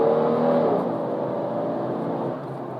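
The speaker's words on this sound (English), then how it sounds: "I'll go ahead and do a hard acceleration here so you can see it switch gears" A car accelerates hard with a loud, sustained engine roar that dips slightly as it shifts gears, heard from inside the vehicle with no voices.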